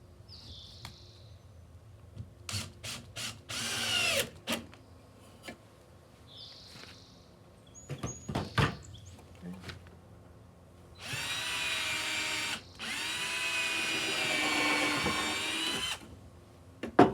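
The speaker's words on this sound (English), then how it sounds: "That is not my favorite drill." An electric drill whirs in short close bursts, then in two longer sustained runs with a brief stop between them. Clicks and handling knocks fill the gaps.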